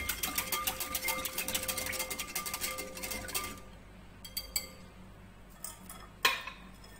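A spoon stirs a maja blanca mixture of cornstarch and food coloring in a pot, giving a rapid run of light metallic ticks and scrapes that stops partway, followed by a few sparse clinks.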